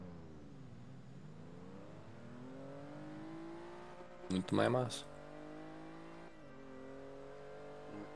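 An engine revs in a car racing video game, a continuous whirring drone rising and falling in pitch as it accelerates and shifts. Someone speaks briefly over it midway.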